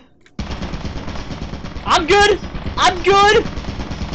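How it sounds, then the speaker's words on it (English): A turret in Lethal Company fires two rapid automatic bursts, loud and close, over a constant background hum, while a player shouts briefly. "There's a turret there."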